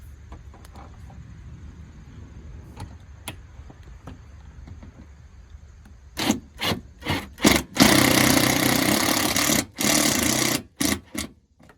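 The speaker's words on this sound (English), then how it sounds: "Now I'm about ready to run these last 2 screws in." Power screwdriver or drill driving the last two screws into pre-drilled holes while mounting a sewer hose storage holder on an RV, heard as several short whirring bursts and one longer loud run, close by, with no talk.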